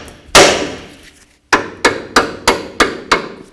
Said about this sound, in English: we're going to use a hammer and we're going to hit right on the knuckle right here to try to break this free